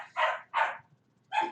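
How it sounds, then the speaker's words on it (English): A dog barks three times, sharp and close, with a short gap after the first two and a longer pause before the third, no talk over it. "What are you barking at?"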